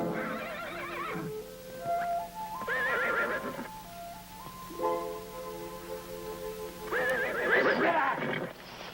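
A horse lets out several loud, wavering whinnies with a few brief gaps between them, ending in a long, shrill neigh, all heard in an old colorized television drama.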